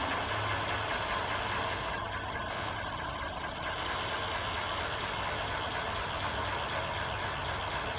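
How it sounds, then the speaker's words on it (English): Himiway electric bike motor revving with a bent, wobbling wheel: a steady, loud mechanical whir and hum with slight vibration, continuous throughout with no talk. "Now we're going to rev it up."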